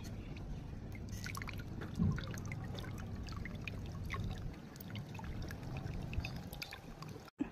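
Water pours and trickles steadily as food is rinsed before eating, a faint, continuous splashing with a brief louder splash partway through.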